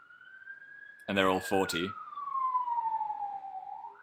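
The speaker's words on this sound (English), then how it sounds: "I was going to say it was an ambulance, but it was definitely a police car." A police car siren wails outside as it passes, a long, steady, slowly falling tone that lasts throughout and rises again at the end, while someone speaks briefly over it.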